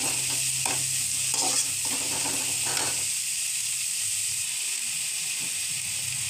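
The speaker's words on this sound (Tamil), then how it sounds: "கொஞ்சம் லேசாக வணங்கினதுக்கப்புறம் நம்ம இந்த காய்கள்லாம் போட்டு கொஞ்சம் லேசாக வணக்கி விட்டுக்கலாம்" Vegetables sautéed and stirred in a pan for a South Indian home-style dish, with a steady soft sizzle and repeated scraping stir strokes in the first half, then quieter frying hiss alone.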